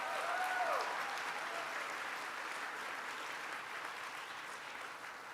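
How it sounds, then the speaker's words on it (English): Audience applause at a political event, a dense, even wash of clapping that sounds somewhat distant and holds steady throughout, with a faint tone near the start. "Let's give Christian a round of applause."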